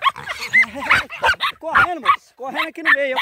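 Puppies yipping, barking and whimpering up close in quick bursts on a farm near a piglet, with some overlapping high-pitched cries.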